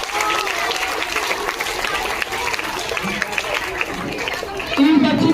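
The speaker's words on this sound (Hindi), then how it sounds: "जोरदार तालियां।" Applause from the audience at a school annual day awards ceremony rolls on steadily for about five seconds, with crowd chatter and a voice mixed in beneath it.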